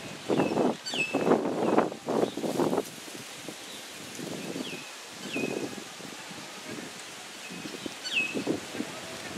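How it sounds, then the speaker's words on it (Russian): Birds chirping around a Caribbean beach hotel complex, with short bright tweets repeating every second or two. Bursts of nearby talk and rustling sit over them at moderate level. "Птички чирикают."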